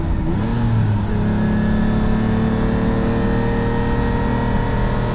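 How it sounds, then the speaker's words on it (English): Lamborghini Countach V12 revving while cruising in fourth gear through a gated manual, a loud, steady in-cabin engine drone with rising harmonics that climb smoothly as revs build, heard alone. "We're cruising in 4th gear right now. The engine loves to rev."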